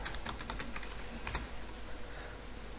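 A computer keyboard types out a web address in a quick, uneven run of soft, close key taps with one sharper click partway through.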